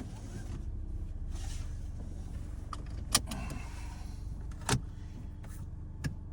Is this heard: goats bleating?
no